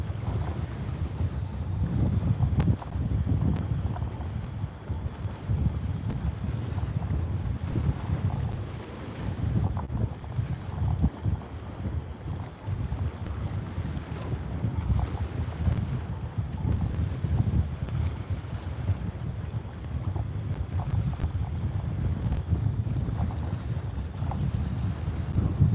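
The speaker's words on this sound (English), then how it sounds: "Ooh, that wind's picking up." Strong wind buffets a boat during cold, icy blue catfish fishing, a steady low roar of gusts and microphone wind noise with faint water slapping throughout, no talking.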